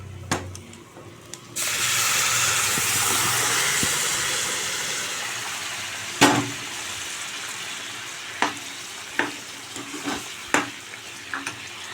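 Curry of milk and bottle gourd sizzling steadily in a pan after the tempering spices go in, a loud continuous frying hiss that starts abruptly and is followed by several sharp spoon clinks and stirring taps.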